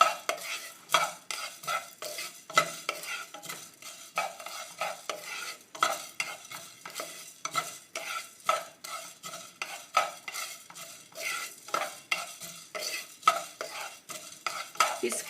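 Whole spices such as cloves, cardamom, cumin and fenugreek are dry-roasted for a fish curry masala, a spoon scraping and stirring them around a pan in steady, quick, close strokes with no talking.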